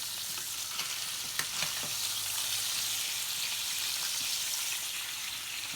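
Steady sizzle of steak edges searing in a hot pan, an even hiss with faint crackles and small pops throughout and no talking.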